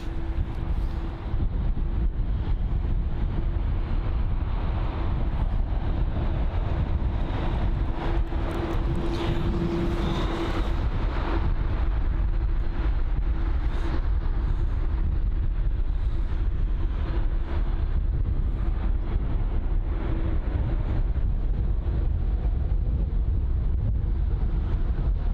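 A Turkish Airlines Airbus A330-300 at London Heathrow gives a loud, steady engine roar with a faint whine that runs through the whole stretch, mixed with gusty wind noise and no talk.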